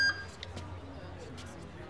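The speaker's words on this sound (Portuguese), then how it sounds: "Todas as vezes que ele toca, parece que um caminhão tá dando ré." Repeated electronic beeps from a phone ringtone, said to sound like a reversing truck or fire alarm, sound in a short sequence over a low background, with a sharp tone at the very start.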